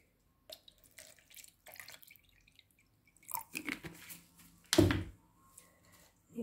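A tap runs in short intermittent bursts, with water splashing and dripping into a sink and a louder gush near the end, heard close in an otherwise quiet room.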